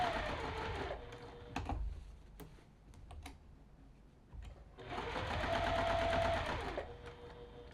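A sewing machine stitches a rag quilt seam in two bursts of rapid mechanical whirring, with a quieter pause of clicks and handling in between, fairly faint and close.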